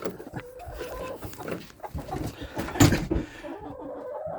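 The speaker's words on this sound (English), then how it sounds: "I got some chickens wanting to run out" Chickens cluck and fuss close by, with rustling and clattering around them and a louder burst near the end.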